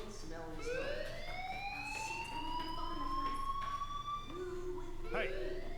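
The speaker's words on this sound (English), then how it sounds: "Hey, do you hear that fire alarm? That means you should be outside." A rising and falling fire alarm siren wails continuously through a school building in the video game Life Is Strange, loud and steady from start to end with a low background hum.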